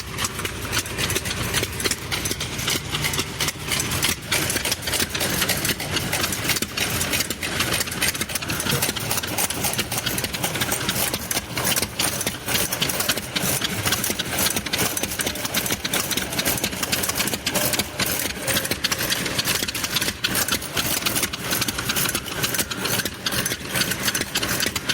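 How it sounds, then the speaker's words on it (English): Roughly five small engines putt-putting together in a steady, continuous loud drone with a fast rattling rhythm, no talking over it. "These little engines, there's about 5 of them going."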